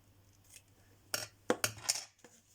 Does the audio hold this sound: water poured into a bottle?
no